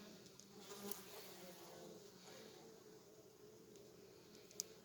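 A steady, droning buzz of many honey bees at a hive, fairly faint and continuous, with a couple of brief clicks near the end.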